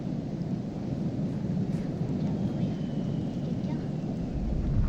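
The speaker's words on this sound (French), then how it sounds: "Attention, la tempête est dure pour la route." Thunderstorm with steady rain in the video game Minecraft, a dense continuous roar of downpour with low rumbling underneath, swelling slightly louder toward the end with no voices.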